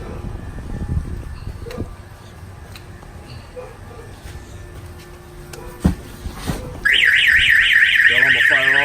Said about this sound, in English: The alarm will fire off.